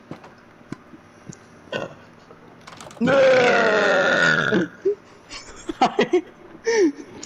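A kid lets out one long, loud, rough burp lasting over a second, followed by scattered laughter and voices talking.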